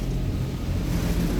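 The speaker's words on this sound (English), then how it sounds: "But engines are still running" Boat engines run with a steady low rumble and drone, loud and continuous, with some wind noise on board.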